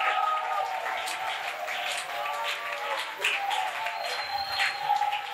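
A church congregation cheers and claps in a steady, moderately loud wash of applause, with voices rising over it throughout.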